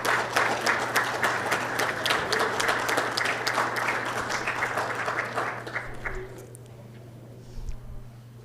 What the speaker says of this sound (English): let's give them an applause as they walk up